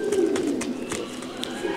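Pigeons coo at a fancy pigeon show in Mönchengladbach, a close, steady low cooing hum with soft flutters and faint background bustle.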